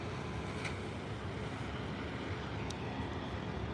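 A Jet2 Boeing 737 airliner at Birmingham airport gives a steady, broadband engine roar that holds even throughout, with no talk over it.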